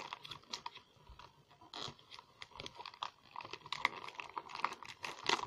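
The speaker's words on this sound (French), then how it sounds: "l'emballage est vraiment pas facile à enlever" Faint, close-up crinkling and tearing of plastic packaging, irregular crackles and rustles coming in uneven bursts.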